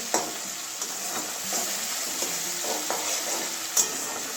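Melted tomatoes sizzle in plenty of oil for a katla posto curry, with a spatula scraping and tapping the pan at irregular intervals over a continuous frying hiss.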